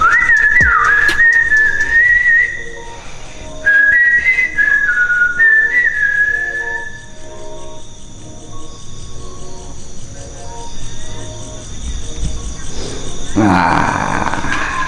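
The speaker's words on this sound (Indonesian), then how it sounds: "Saya siul ini." Someone whistles a wavering, sliding tune in an abandoned housing estate, with several bursts over steady cricket chirping and a rougher noisy stretch near the end.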